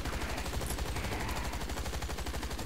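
Rapid automatic gunfire in the shooter game Hazard Ops, a steady dense stream of sharp repeated shots at an even fast rhythm, continuous and close, with no talking.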